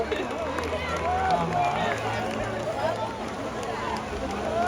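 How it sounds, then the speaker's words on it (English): Crowd applause and cheering at a SeaWorld San Diego killer whale show, a steady dense wash of clapping mixed with voices and babble throughout. "Give her a round of applause."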